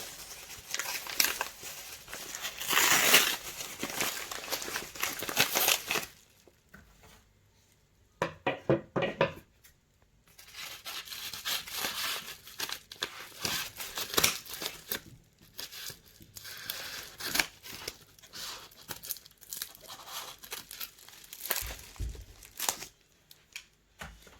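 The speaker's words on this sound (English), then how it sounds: "I'm going to be unwrapping it to see what is in the package." A small, heavy gift package is unwrapped: bursts of paper tearing and crinkling come in close, irregular spells separated by brief quiet pauses, with occasional light knocks and no talk.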